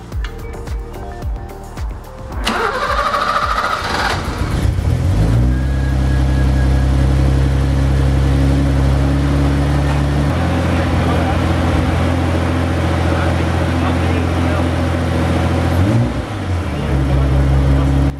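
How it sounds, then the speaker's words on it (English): A 34-year-old BMW M20 2.0-litre six-cylinder car engine (m20b20) cranks and catches, then settles into a steady, loud idle with a smooth low hum and faint mechanical valve train ticking. "we are going to start the car to see if it is running any smoother"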